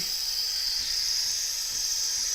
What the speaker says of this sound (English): And then we'll just open up the steam.